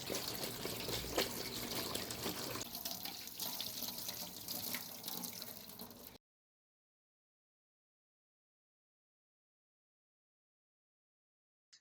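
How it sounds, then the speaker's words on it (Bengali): New winter potatoes are washed under a running kitchen tap, steady splashing water close by for about six seconds, then it cuts off abruptly into silence. "আলু ভালো করে ধুয়ে নিলাম।"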